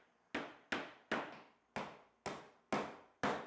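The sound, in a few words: hammering nails into wood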